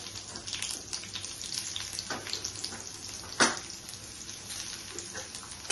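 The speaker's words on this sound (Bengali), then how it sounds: "একটু গ্রেট করা পেঁয়াজ দিয়ে দিচ্ছি" Grated onion frying in a pan with cardamom and cinnamon, a soft, continuous sizzle with a couple of brief louder crackles.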